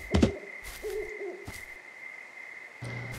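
Owl hooting in the video game Firewatch: a few short, mid-pitched hoots drift in at moderate volume over a quiet, steady forest hum, with no talking.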